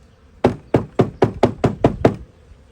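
Eight sharp knocks in an even, steady rhythm, close and fairly loud, as a wooden beehive frame is tapped to shake bees off it.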